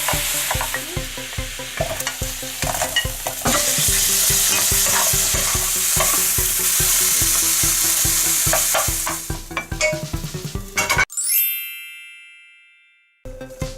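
Sauce coming to a boil as grilled rice cakes and sweet potato are added and stirred: steady sizzling with repeated scraping strokes and clanks of a utensil against the pan, ending in a bright ding that fades out.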